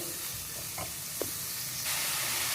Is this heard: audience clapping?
no